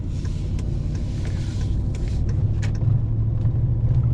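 A truck rolls along a rough road with a low, steady engine rumble. Scattered rattles and knocks sound close from the cab as it jolts over bumps, and the rumble grows slightly louder toward the end. No one speaks.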